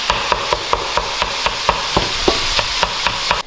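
Sausage sizzling and frying in a thick-bottomed HexClad pan while a utensil breaks it up, giving a steady run of sharp scraping and tapping strokes about three per second over constant sizzle, close and fairly loud.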